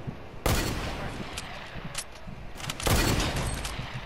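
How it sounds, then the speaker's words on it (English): Two loud bursts of rapid gunfire in the video game Fortnite, the first just under half a second in and the second near three seconds, each trailing into scattered shots and game noise. "That was a fucking decent shot."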